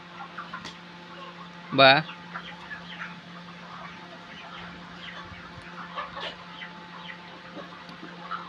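Chickens in a poultry farm shed with nipple drinker lines give soft scattered clucks over a constant mechanical hum, with one louder squawk early on; a voice briefly speaks.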